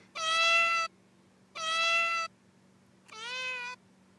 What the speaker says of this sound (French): This is a door context. The cat wants to be let outside.